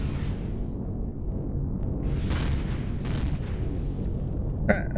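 Plasma weapons firing in the sci-fi survival game Empyrion Galactic Survival, heard as a steady run of low, booming energy blasts with whooshing bursts, fairly loud and continuous with no talking.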